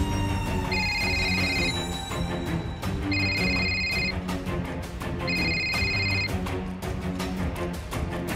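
A telephone rings in repeated bursts of electronic tones, three clear rings spaced a couple of seconds apart, sounding over a steady bed of background music in a Hindi TV drama scene.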